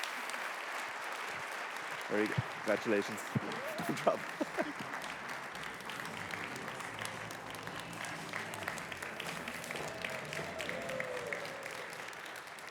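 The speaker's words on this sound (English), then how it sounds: "Another round of applause," Sustained audience applause fills a conference hall at a corporate livestream event, dense and steady throughout, while a voice briefly speaks over it near the start.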